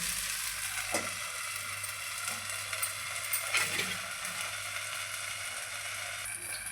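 Soft, steady sizzling of a jowar dhirde, a sorghum pancake, cooking in oil on a pan, close and quiet, with a few faint clinks and scrapes now and then.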